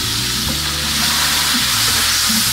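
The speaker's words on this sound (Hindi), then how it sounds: "मिर्ची के पेस्ट को बढ़ा डालेंगे और साथ ही इसमें डालेंगे अपने टमाटर।" Chili paste and tomatoes hitting a hot frying pan, a loud, close, continuous sizzle with some stirring, no voices over it.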